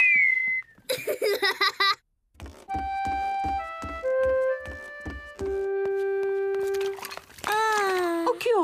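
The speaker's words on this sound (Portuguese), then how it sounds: "George consegue assobiar." Cartoon character George from Peppa Pig whistling: a run of clear, steady whistled notes stepping through a simple tune, with brief giggles and a higher rising whistle at the end, loud and close.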